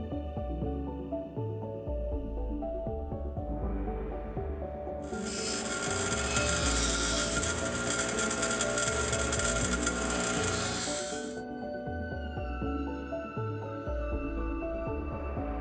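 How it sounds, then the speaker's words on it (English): Hand scraping of an old-growth quarter sawn white oak floor, a steady rasping scrape with a louder, brighter stretch in the middle, no talk. "receptive to the idea of scraping the floors to yield maximum visibility of the vivid figure of the old growth quarter sawn white oak"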